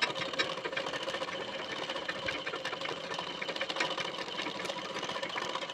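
A sewing machine runs steadily throughout, stitching along the edge of a blouse waistband band, a continuous dense mechanical whir at moderate level with no talking.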